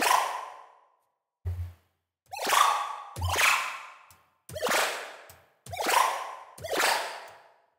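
A space whip synthesized in Native Instruments Massive cracks about six times, each a sharp zap that sweeps downward and fades, separated by short silences.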